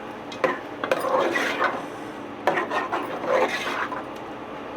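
A spoon, metal rather than wood, scrapes and rasps against the bottom of a pot as chicken and chickpeas are roasted in a home kitchen, giving two rough scraping strokes that each swell and fade.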